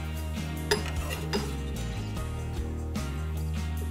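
A utensil clinks and scrapes against a metal pan while sauce with serrano, paprika and chives is stirred, giving a few sharp metallic taps over a steady kitchen hum.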